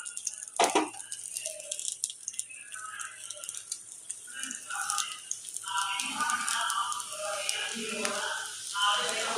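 Adai dosa batter frying in oil on a pan: a steady close sizzle with crackles and a sharp rattling clack near the start, rising a little toward the end, with no talk over it.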